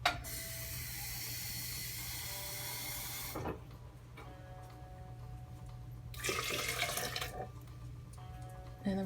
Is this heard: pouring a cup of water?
yes